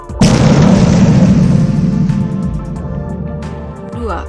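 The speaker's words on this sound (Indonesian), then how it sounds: "Jika salah penanganan, maka dapat menyebabkan ledakan yang sangat dahsyat." A single loud, close explosion sound effect bursts with a sharp onset and then rumbles and decays over several seconds, with a faint pop near the end.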